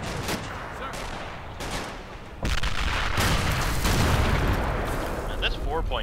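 4.2 inch mortar rounds explode in a WWII war video game, a heavy rumbling blast swelling partway through and rolling on amid continuous battle noise, loud and dense.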